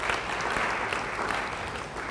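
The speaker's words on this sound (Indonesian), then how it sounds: "Beri tepuk tangan bagi dia" A church congregation applauds in a worship service, continuous thick clapping throughout, fairly loud and even from start to finish, with no talk on top.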